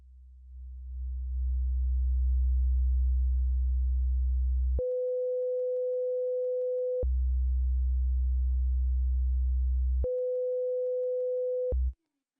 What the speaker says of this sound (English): we'll start with 60 Hertz on sine wave.